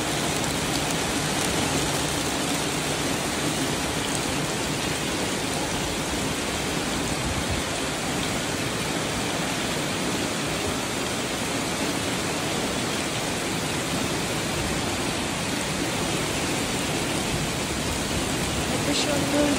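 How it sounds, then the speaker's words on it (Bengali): Heavy rain pours down in a dense, unbroken roar that stays loud and steady for the whole stretch, a continuous wash of countless drops with no pauses. "এত সুন্দর বৃষ্টি, এত জোরে বৃষ্টি হচ্ছে"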